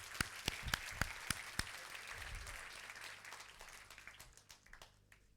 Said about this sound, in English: Please give another big applause to all of the startups.